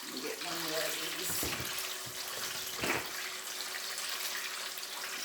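Vegan chipotle egg rolls frying in hot oil, a steady loud hiss and sizzle with crackling throughout, close by, with a few clattering sounds of handling.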